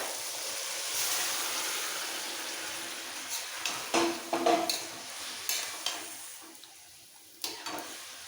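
Boiled vegetables are tipped into a pan for a rohu fish head and pui shak dish and stirred, with a soft sizzle and intermittent scrapes and clacks of a spoon against the pan, fairly quiet and close.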